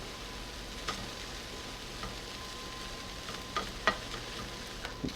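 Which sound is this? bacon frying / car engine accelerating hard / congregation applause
bacon frying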